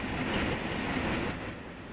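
Freight cars from Trainz Simulator 2012, including Pennsy and Illinois Central cars, roll along the track with a steady, dense rumble and rattle that holds at a fairly even level for the whole stretch, with no voices.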